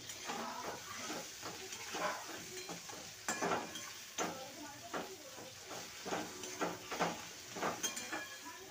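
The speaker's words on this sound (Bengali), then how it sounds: "ভালো করে নেড়ে নেব।" A spiced pointed gourd curry with salt and turmeric is stirred in a pan, giving rhythmic scraping strokes over a soft sizzle, fairly quiet and close.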